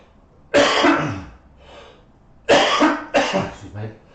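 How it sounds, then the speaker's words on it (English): Coughing from a person tasting cannabis flower: a harsh cough bursts out, then after a pause two more close coughs follow in quick succession, loud and close, with a throat-clearing quality. "I got a tickle then, so I might cough"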